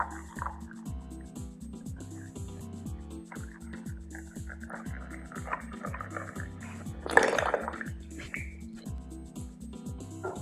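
An espresso machine hums and pulses with a steady rhythmic pump while liquid trickles and drips into a cup, with a brief louder hiss midway.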